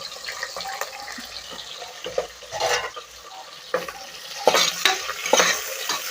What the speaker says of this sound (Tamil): இப்போ வெட்டி வச்சுதானே இந்த வெங்காயத்தை சேர்த்துடலாம்.